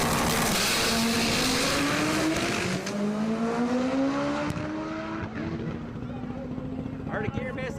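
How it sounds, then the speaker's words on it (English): Race car at a drag-racing speed event missing a gear, its engine roaring loudly and then falling away, with the pitch climbing and then dropping as it passes. A crowd murmurs underneath. "Heard a gear miss out of Chris"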